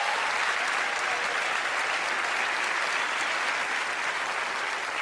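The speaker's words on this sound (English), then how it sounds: "let's give Mark a nice round of applause" A studio audience on Penn & Teller: Fool Us applauds a volunteer named Mark, a loud, steady wash of clapping that holds evenly from start to finish with no talk over it.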